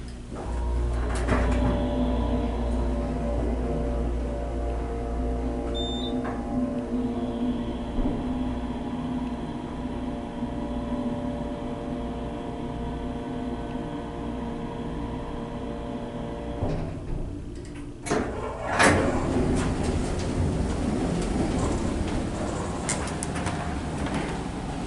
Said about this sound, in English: let's listen to the motor going back up to the first floor